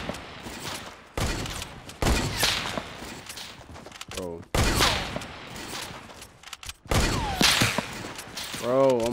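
Sniper rifle gunfire in Fortnite, several sharp loud shots spaced a second or two apart, each with a brief ringing tail, amid other game effects and a voice that talks between the shots.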